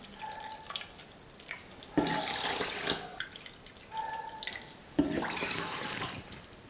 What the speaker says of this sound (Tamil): இந்த கப்லேயே 2 கப் அளவுக்கு தண்ணி சேர்த்துக்கலாம்.